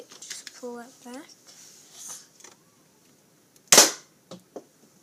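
A Nerf pistol is cocked with a few ratchety plastic clicks and pulls, then fires one sharp, close, loud pop, followed by a couple of faint clicks, with someone talking quietly in between.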